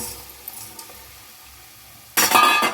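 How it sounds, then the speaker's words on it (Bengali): Rice and lentils go into hot frying spices for khichuri, making a sudden loud sizzle after a quiet stretch with a few soft clinks of the utensil. "চাল ডালটা দিয়েও আমাকে খুব ভালো করে এই মশলার সঙ্গে মিশিয়ে দিতে হবে"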